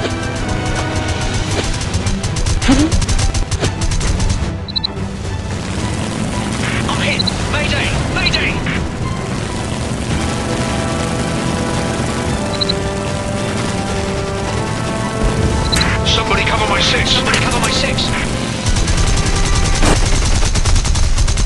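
Rapid machine-gun fire rattles through a War Wings aerial dogfight involving a Shiden-Kai fighter, dense and continuous over engine drone, explosions and other game effects.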